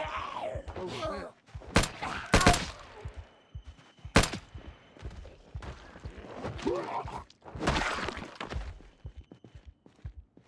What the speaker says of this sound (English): I managed to shoot 70 bullets